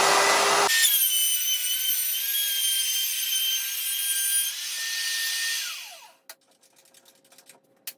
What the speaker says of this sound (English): So I have my router bit set quite a bit, like maybe 3/16 of an inch below the wood on the other side.